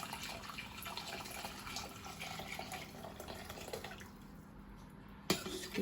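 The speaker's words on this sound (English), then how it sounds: "pour in your chicken stock / broth." Chicken stock poured into a pot for southern-style collard greens with smoked turkey, a steady, soft splashing pour of liquid that runs for several seconds before a brief clink near the end.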